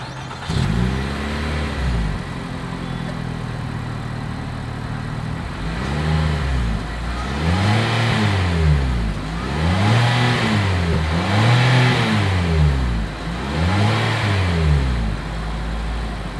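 Exhaust of a 2021 Nissan Rogue revving: after an idle, the engine is blipped about five times in a steady rhythm, each rise and fall loud and close, with no talking.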